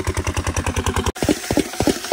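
An irrigation pump engine on a farm runs with a loud, steady, rapid thumping beat, then cuts abruptly partway through, followed by looser, irregular chugs that could be the engine slowing.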